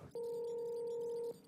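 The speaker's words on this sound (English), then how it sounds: "sorry, getting a phone call" A single electronic phone ring for an incoming call, one steady sustained tone lasting just over a second, clear and alone against a quiet background.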